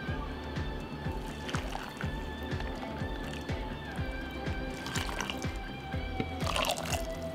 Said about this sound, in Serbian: sada ću je napuniti sa proključalom vodom